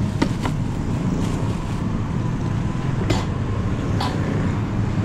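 A small 33cc grass cutter engine runs with a steady, continuous drone, heavily mixed with wind noise buffeting the microphone.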